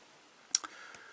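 A few quiet clicks of computer keyboard keys being typed, sparse and close, with near silence between the taps.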